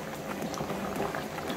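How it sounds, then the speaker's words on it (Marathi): Flower shrimp (kardi) masala simmers uncovered in a pan, giving a steady, close bubbling and gentle popping as the liquid reduces. "तुम्ही झाकण न ठेवता यातला हा जो रस आहे तो आटवून घेऊ शकता"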